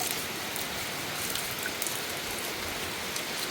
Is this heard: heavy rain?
yes